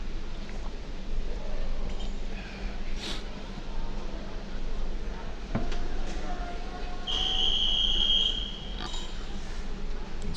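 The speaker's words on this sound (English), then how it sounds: "Starters blowing the whistle for the swimmers to get on the blocks" A starter's whistle at a swim meet gives one sustained, shrill blast partway through, over a steady murmur of crowd and pool-deck ambience.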